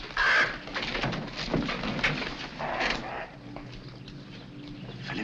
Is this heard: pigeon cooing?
yes